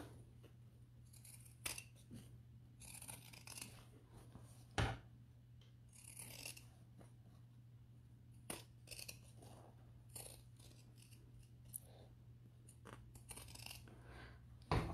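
Scissors snip through the fabric seam allowance of a sewn bucket tote in a series of close, crisp, irregular cuts, with short pauses and quiet rustling of cloth between them and no voices.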